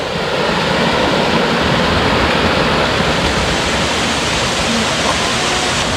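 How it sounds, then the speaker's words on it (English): A waterfall in El Yunque rain forest, Puerto Rico, gives a loud, unbroken roar of rushing water, steady and dense throughout with no other sounds standing out. "what a beautiful waterfall"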